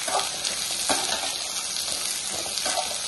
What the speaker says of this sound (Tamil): இதெல்லாமே நல்லா வதக்கிடலாம்.